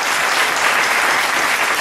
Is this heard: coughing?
no